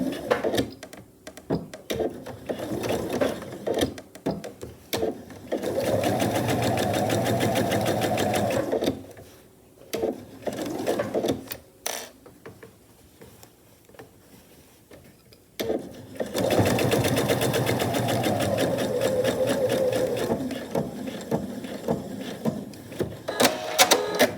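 A sewing machine stitches a seam on a reversible tote bag in two long, steady runs of close, even mechanical whirring, separated by a quieter pause with fabric handling and clicks.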